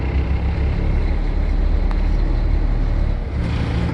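A truck engine in an automatic-transmission rig, held in drive, revs steadily against the applied trailer spring brake. The engine gives a loud, continuous close-up roar that eases slightly near the end.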